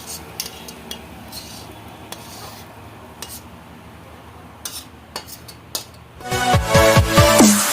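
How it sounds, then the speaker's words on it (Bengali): Cooked lote fish curry is scraped and poured from a pan, with light scattered metal clinks of a utensil against the pan followed by a louder burst of scraping and sizzling near the end. "টাইম তরকারিটা হয়ে গেছে বন্ধুরা, আমি ঢেলে নিচ্ছি।"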